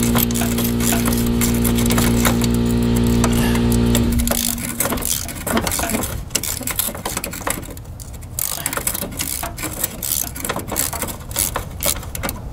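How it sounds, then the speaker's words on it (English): Air ratchet backing out a lower fender bolt on a 1969 El Camino, a steady loud whirring rattle for about four seconds that then stops, leaving quieter clicking and shop handling noise. "I'm using my air ratchet to be a little faster."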